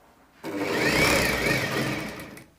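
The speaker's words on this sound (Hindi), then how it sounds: "मशीन इसके ऊपर चलेगी।" An electric sewing machine runs in one steady burst of about two seconds, a close, loud whirring hum as it stitches fabric for a heavy-work Rajputi poshak.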